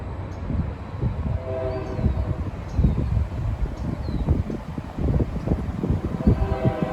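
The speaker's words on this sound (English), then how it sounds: "You can hear the train." A train rumbles past nearby, a continuous low rolling clatter of wheels on track with faint high squeals over it.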